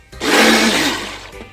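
A Ninja Ultra Prep food processor whirs loudly with rinse water sloshing inside, a steady roaring churn that starts abruptly, holds for about a second and cuts off.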